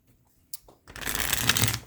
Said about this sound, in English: Let's get some ancestor cards.